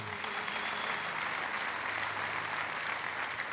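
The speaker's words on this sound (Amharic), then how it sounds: "አጨብጭቡላት።" An audience at a church testimony event claps together in a steady, dense burst of applause that holds at an even level throughout, with no voices over it.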